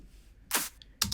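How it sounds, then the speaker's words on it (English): Main layer of a two-layer clap drum sample in a music production mix, heard as two crisp, bright clap hits about half a second apart, the second with a doubled, slightly smeared tail, alone and fairly close. "You've got the main clap, which sounds like this"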